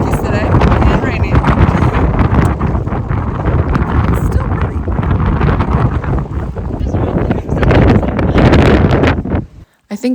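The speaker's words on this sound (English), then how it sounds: "Tis a bit windy out here in the Smokies today and rainy." Strong, gusty wind on a rainy day in the Great Smoky Mountains along the Appalachian Trail, a loud continuous roar buffeting the microphone with surging bursts, dropping out briefly near the end.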